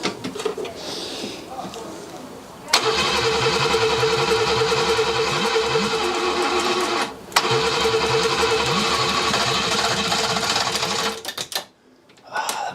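The starter motor of an old BMW barn find, unused for 30 years, cranks the engine in two long, loud, rhythmic bursts with a short pause between them. The engine never catches, and the cranking stops abruptly.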